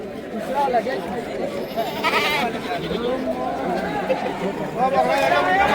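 Young Barbari goats bleat at the Deonar goat market, with repeated close bleats rising over a dense, noisy crowd murmur of people talking throughout.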